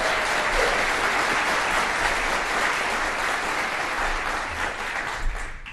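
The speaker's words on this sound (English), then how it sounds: "Give them a round of applause, guys" Middle school honors jazz concert audience giving a dense, even round of applause for the student soloists, loud and sustained, tapering slightly at the end.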